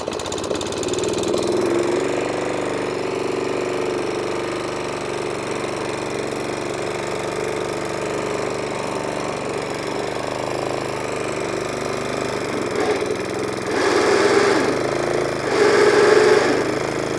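A vintage Atco lawn mower engine, long stored and just brought off choke, runs with a steady, rough low chugging, getting louder and busier near the end.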